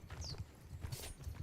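Hooves of a mounted horse archer clip-clop in a steady rhythm in a video game match, fairly loud and continuous under a low rumble.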